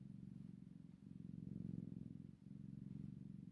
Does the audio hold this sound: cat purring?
yes